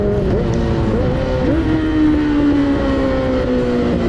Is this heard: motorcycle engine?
yes